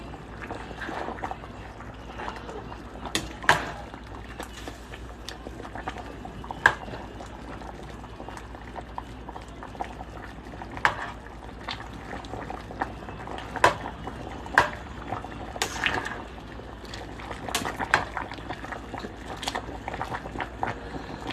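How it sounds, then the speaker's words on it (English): A pot of Jamaican chicken back soup boils steadily, a low bubbling simmer with scattered pops and clinks throughout, heard up close without talk. "make this boil down for a little while"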